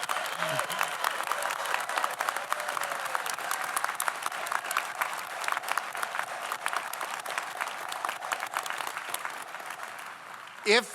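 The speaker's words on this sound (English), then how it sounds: "Would you join me in just giving them a proleptic round of applause for..." A commencement crowd applauds the graduating class, steady clapping from many hands across the whole span, with a few voices mixed in and a brief louder knock near the close.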